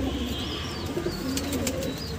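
High flyer pigeons coo softly nearby in a loft, with repeated low throaty calls over a steady background and a few faint chirps.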